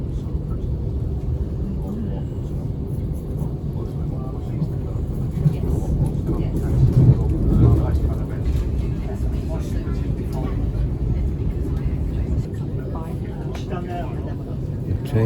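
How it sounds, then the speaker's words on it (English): Inside a Brighton-to-Cambridge passenger train heading toward London as it slows into Burgess Hill Station: a steady, low rumble of wheels and carriage noise continues throughout, swelling slightly midway. "The train slows down as it runs into Burgess Hill Station."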